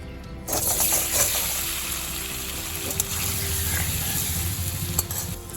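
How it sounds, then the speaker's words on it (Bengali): Paneer pieces rubbed with salt and turmeric fry in mustard oil in a kadai over medium flame, giving a steady, close sizzle with light stirring and occasional sharp pops. "আলু ভাজা তুলে নেওয়ার পরে যেই তেলটা আছে সেই তেলে আমি এবার পনিরের টুকরোগুলোও ভেজে নেব।"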